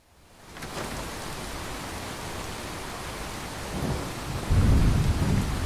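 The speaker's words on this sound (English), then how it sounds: "it is still raining" Rain falls steadily in the Fallout 4 game world, a dense hiss that grows heavier, with low rumbles of thunder rolling in near the end.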